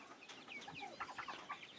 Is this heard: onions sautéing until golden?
no